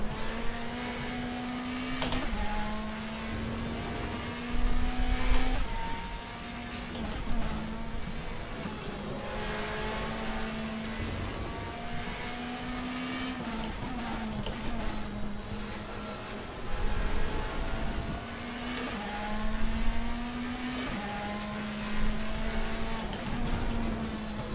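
Race car engine in the DTM Experience 2014 racing game at Hockenheim, a steady droning whine that rises and dips through gear shifts and hard braking into a hairpin, loud and continuous with no talk.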